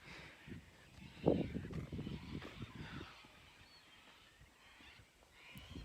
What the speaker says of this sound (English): They're loud birds this morning